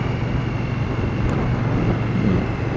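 A 2017 Victory Octane motorcycle engine while riding, a continuous low rumble mixed with heavy wind rush, steady and loud.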